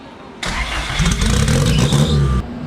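A turbocharged B16 Honda Integra with a freshly welded exhaust is revved with a burst of throttle, a loud, close engine roar that rises and holds for about two seconds before dropping back to idle.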